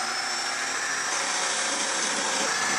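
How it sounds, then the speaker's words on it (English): A power drill with a brad point bit bores a sound hole into a cigar box guitar, giving a steady, loud, high whirring whine held continuously at close range with no talking. "Okay, we're drilling."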